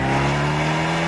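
A steady, loud engine drone from an Abarth 124 Spyder breathing through its Record Monza exhaust, a brief sustained note at constant pitch without a clear rise.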